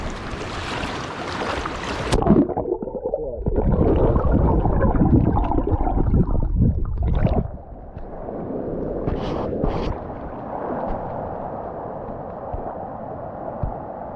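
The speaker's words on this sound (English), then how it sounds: "Inside a waterfall at Zoar Valley." Rushing, roaring water from inside a waterfall at Zoar Valley, loud and turbulent, with a strong current of flowing water throughout and a shift in tone midway as the position changes.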